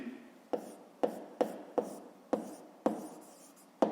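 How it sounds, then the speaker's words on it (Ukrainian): A pen writes on paper in close, quiet, scratchy strokes, about eight short bursts in an uneven rhythm with brief pauses between them, and no talking. "Записуємо тоді."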